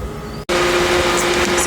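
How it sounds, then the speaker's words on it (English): A loud fan whooshes steadily with a low hum, briefly cutting out for a split second before resuming at full strength. "Sorry about the fan. The fan's kind of loud,"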